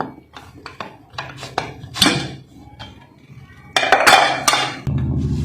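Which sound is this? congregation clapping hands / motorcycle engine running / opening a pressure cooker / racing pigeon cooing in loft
opening a pressure cooker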